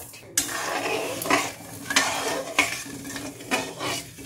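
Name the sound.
stirring sugar into water to make sugar syrup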